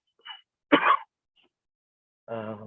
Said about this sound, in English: apologies for the cough that I have